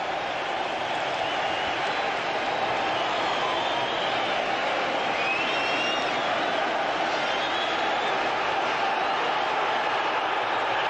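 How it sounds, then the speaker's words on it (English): A football crowd at a 1987 league match between Sunderland and Barnsley roars after a Sunderland home goal, a dense, sustained wall of distant cheering and noise filling the whole stretch without pause. "And that's brought the crowd to life."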